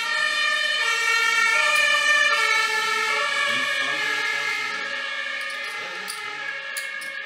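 A fire engine siren wails loud and close as the truck passes, then slowly fades into the distance, heard during an evening home poker game, alone with no one speaking over it.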